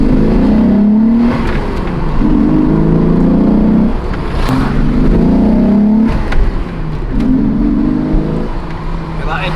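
A Volkswagen Corrado VR6 pulls hard on the road, its induction and exhaust rising through the gears in repeated revving sweeps with brief dips at each shift, loud and close from inside the cabin.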